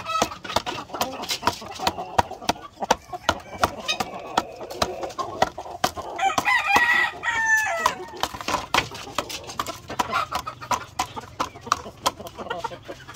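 Black Asil chicken on a farm clucking and crowing in short bursts, with a brief louder crowing passage midway, close by amid scattered handling clatter.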